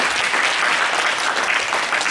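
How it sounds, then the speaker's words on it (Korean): A church congregation in Auckland applauds as couples come forward, a brief burst of steady, dense clapping from the room with no talking over it. "이 분들이 앞으로 나오실 때 좀 박수로 맞이해 주시면 좋을 것 같은데요."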